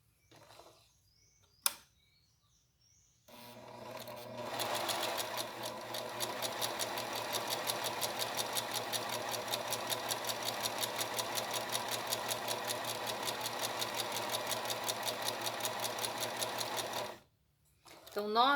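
Sewing machine stitching cotton fabric for a cloth doll, running in a steady fast rhythmic whir for about fourteen seconds after a brief click and pause, loud and close with a short sound at the end.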